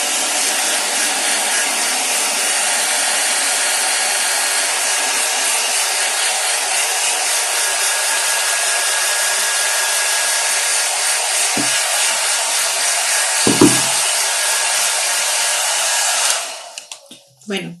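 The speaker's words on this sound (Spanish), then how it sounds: "ahora lo vamos a secar con el secador" A hair dryer blows steadily and loudly at close range for about sixteen seconds, drying grey paint on a recycled craft piece, with a brief bump partway through before it shuts off and winds down.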